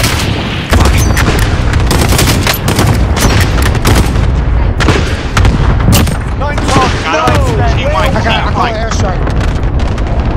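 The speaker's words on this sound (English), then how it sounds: "Dropping an airstrike on that." An airstrike in the video game Call of Duty: Modern Warfare, with loud dense booms, blasts and gunfire rumbling continuously, plus people talking over the chaos.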